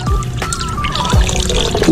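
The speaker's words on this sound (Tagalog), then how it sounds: "kapag po tag-ulan tumutulo po ito nag-free flowing" Rainwater trickles and drips steadily from a poultry waterer for chickens, ducks and turkeys, a close, continuous free-flowing dribble with no voices over it.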